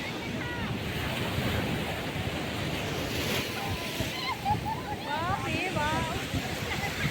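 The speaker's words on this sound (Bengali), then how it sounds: "ওই দেখো কি জোরে জোরে ঢেউ আছে" Big surf crashing on a beach in Odisha, a loud continuous roar of breaking waves with strong wind buffeting the microphone, while people talk and shout over it.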